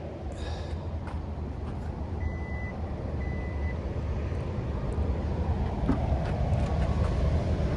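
Traffic from a nearby interstate highway makes a steady low rumble and roar, loud and continuous throughout, with wind noise mixed in and a faint beeping tone briefly audible.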